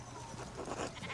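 Sheep bleating on a farm in the video game Pentiment, a single wavering nasal bleat that rises toward the end of the brief span, fairly close over quiet background.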